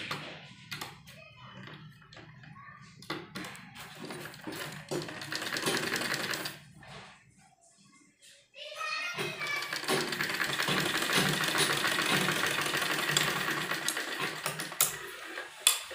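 A sewing machine stitches along the edge of a baby kurti seam, with rapid mechanical clatter in bursts, a brief pause, then a long continuous run of close, steady stitching.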